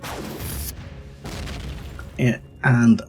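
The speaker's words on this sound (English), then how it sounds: "plasma cannon is not going to be a problem." A plasma cannon fires in the space survival game Empyrion, a series of close, heavy booming blasts with sharp bursts toward the end, surrounded by game noise.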